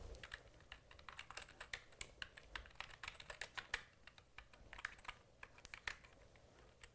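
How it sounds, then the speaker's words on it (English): Steady, fairly fast typing on a computer keyboard as an email address is entered, with close, crisp key clicks in uneven bursts over a quiet room. "And I'll just type that in here for you right now."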